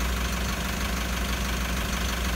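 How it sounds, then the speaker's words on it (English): A car engine idles steadily during a Toyota pilot learn procedure for code P1601, a continuous low even hum with no voices. "You can hear the engine's idling"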